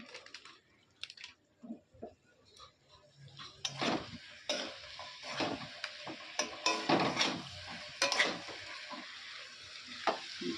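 Chicken masala stirred and fried in a pan: a soft, low sizzle under intermittent scraping and clacking of a spoon against the metal, growing busier toward the end.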